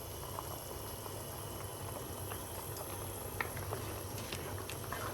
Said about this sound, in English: So now we're gonna start the first set of boiling process.